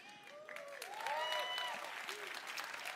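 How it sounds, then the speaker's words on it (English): An audience at Bethesda's E3 2018 presentation claps steadily for a few seconds, with the sound swelling and then holding as a broad wash. A voice talks over the clapping. "They don't even know what they're clapping for."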